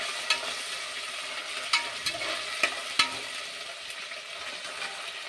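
Tomatoes hitting hot oil for chicken biryani, giving a steady close sizzle with a few sharp stirring clicks scattered through, no voices.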